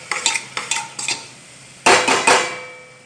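A spoon stirring rice masala with biryani masala in a metal pan, a series of sharp scraping clinks in quick bursts, then louder heavier scrapes, close up.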